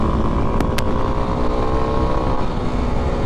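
A 2023 Kawasaki KLX300SM motorcycle cruises on Highway 421 through Shady Valley, its engine droning at a steady pace under loud, continuous wind rush, with two brief ticks near the start.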